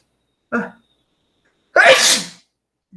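A single loud, sharp sneeze bursts out near the microphone, preceded by a brief short intake of breath and followed by a faint trailing breath.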